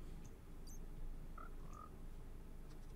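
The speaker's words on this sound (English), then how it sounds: "I hear a fox and a frog behind this wall" A frog croaks from behind a wall, with two brief low calls at moderate distance over steady background noise and a few faint higher chirps.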